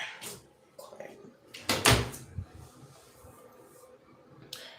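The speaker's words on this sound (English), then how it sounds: "Let me shut this door." A door being shut indoors during a live stream, heard as one firm, fairly loud thud near the middle, with rustling and handling noises around it and a person talking before and after.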